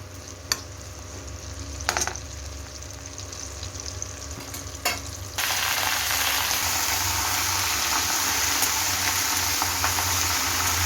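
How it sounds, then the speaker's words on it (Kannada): Green chillies and onion hit hot oil in a pan, starting with faint background noise and a few stirring clinks, then bursting into loud, steady, continuous sizzling frying for the remaining half. "ಅದರಲ್ಲಿ ಎಣ್ಣೆ ಹಾಕಿ ಹಸಿಮೆಣಸಿನ್ಕಾಯಿ ಮತ್ತು ಈರುಳ್ಳಿ ಮಾತ್ರ, ನಾನು ಮಸಾಲೆಗೆ ಏನು ತೋರಿಸಿದೆ ಅದನ್ನ ಮಾತ್ರ ಹಾಕಿ ಫ್ರೈ ಮಾಡ್ಕೊಳ್ಳಿ ಒಂಚೂರು"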